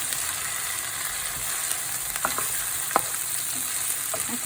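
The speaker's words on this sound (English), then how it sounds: "fry them well." Spices for a fish curry, including nigella seeds, fry in a pan with a steady close sizzle, broken by a few sharp pops and stirring scrapes, no talk.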